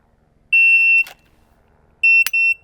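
Two sharp electronic beeps from a shot timer, about one and a half seconds apart, each followed by a brief click, in an otherwise quiet space.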